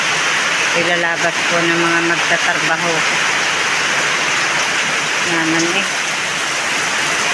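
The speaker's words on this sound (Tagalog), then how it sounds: "Sobrang lakas na naman po ng ulan" Heavy rain pours down steadily near a farm piggery, a loud, continuous hiss that fills the whole clip while a person talks over it.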